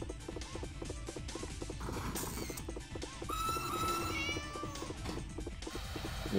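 In an arcade racing video game, a cat-shaped car gives a clear, rising meow that stands out from steady, busy game music and racing effects.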